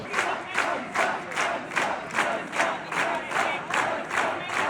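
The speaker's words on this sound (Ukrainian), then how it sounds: "його зустріли такими оваціями і скандуванням канцлер-канцлер" Supporters at the CDU/CSU election-night headquarters give an ovation while chanting in steady rhythmic bursts, a crowd roaring in regular waves roughly every half second over continuous cheering.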